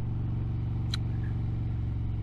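A Harley-Davidson Road King without its windshield rumbles steadily with a low, continuous engine drone as it rides off in cold weather, loud and close throughout with only a faint brief click over the top.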